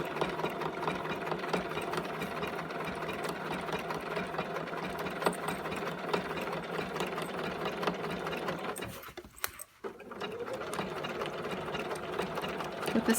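Domestic sewing machine topstitching blue denim jeans with a 3.5 mm stitch length, a steady close mechanical whir running throughout, briefly pausing for a moment near the end before resuming.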